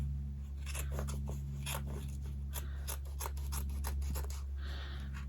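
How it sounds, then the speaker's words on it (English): Scissors snip around an appliqué on Tula Pink striped fabric for a zipper bag, making a run of crisp, close cuts at an uneven pace over a steady low hum. "We're going to go ahead and cut around this applique, same way we did the other one."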